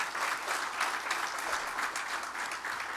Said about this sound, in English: Let's give them a round of applause for their support.